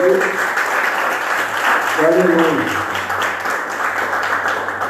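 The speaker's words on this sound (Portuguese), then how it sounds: "Dá uma salva de palmas para Jesus" Steady applause from a church congregation, dense and continuous, with a voice calling out over it.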